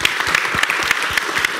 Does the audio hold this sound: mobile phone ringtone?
no